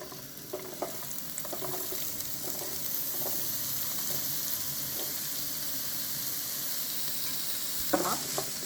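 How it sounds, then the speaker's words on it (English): Thick chopped onions sizzle and crackle in warm olive oil, a steady frying hiss with scattered pops, and a brief louder clatter near the end. "We are gonna wait until olive oil gets warm. We start adding our thick chopped onions."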